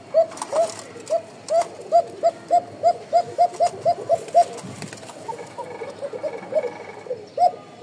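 Pigeons kept for sale coo in a steady run of short, rhythmic calls, repeated roughly every half second at close range over a busy background hum, with no talking.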